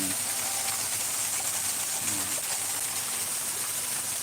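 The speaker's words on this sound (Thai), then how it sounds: "นี่ผมให้ดูนะฮะ น้ำไหลมานะฮะแล้วก็ผ่าน" A natural stream of water flows steadily outdoors with a continuous broadband rushing hiss, close and even throughout.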